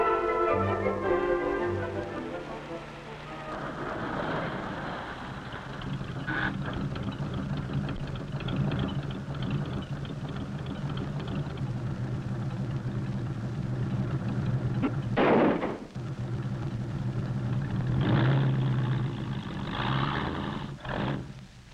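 Car engines roar and rumble steadily as a driver in an early-1950s car chases an old jalopy, the motors droning loud and close throughout, with sharp bursts of noise around the middle and near the end.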